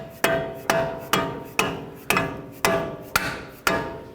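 A hammer drives a bolt into the strut knuckle of a 2007-2010 Chrysler Sebring, with eight sharp, evenly spaced metallic strikes about half a second apart, close and ringing, with no voices.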